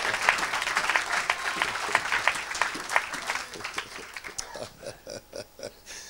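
A church congregation at a Sunday worship service applauds and acclaims, with rhythmic clapping and cheering close by that thins out into a few separate claps near the end.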